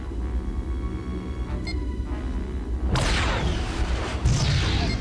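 A purple plasma torpedo strikes in the Star Trek Online space game, an abrupt loud hissing crash bursting over a low rumbling background, then a second swelling wash of noise.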